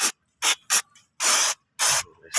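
Aerosol cleaner is sprayed onto brake parts in five sharp, loud hissing bursts of varying length, separated by brief silences.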